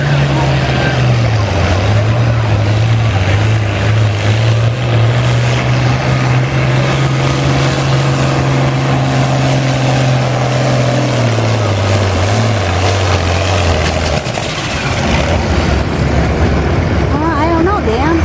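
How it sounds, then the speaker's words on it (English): A pulling tractor, a Farmall 966, roars at full throttle during a tractor pull, a loud, steady engine drone with a sustained low tone that drops near the end as the run winds down, with crowd and announcer noise beneath. "we've got Dan Claprot with the full throttle Barnall, the 966."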